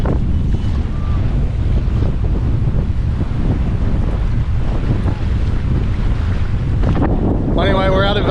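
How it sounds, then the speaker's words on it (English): Strong wind buffeting the microphone on an exposed coast near a sheltered aquarium bay with whitecaps, a constant loud roar and rumble, with a brief burst of other noise at the end. "that's how windy it is"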